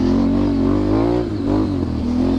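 A Can-Am Renegade 1000 XXC ATV on Tusk Mud Force tires revs loudly and steadily on a trail, its engine note climbing and dipping briefly near the middle, close and continuous with no talk.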